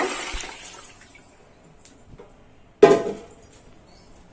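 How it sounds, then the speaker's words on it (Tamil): Water sloshes briefly, then a louder burst of pouring splashes into a cooking pot for chicken biryani and quickly tapers off, with quiet handling sounds before. "அந்த தண்ணியை எடுத்து அதுலயே ஊற்றிக்கலாங்க"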